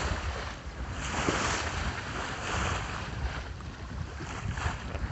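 A sailboat moves across the open ocean with its engine off, a steady wash of wind buffeting the microphone over rushing water and waves along the hull, continuous and fairly loud with no voices.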